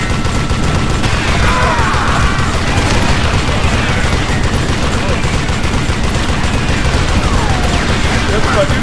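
Machine gun fire rattles in the Call of Juarez Gunslinger western shooter during a train robbery, dense rapid bursts and booms at constant loud level, with faint game narration mixed under the shooting.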